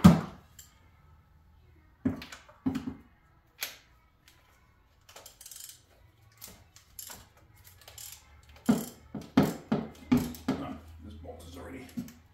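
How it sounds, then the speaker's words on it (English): Ratchet working a loose engine bolt on a 1995 Z28 Camaro during engine removal, bursts of close clicking spread across the clip with pauses and someone talking between them. "this is actually the last bolt on this side"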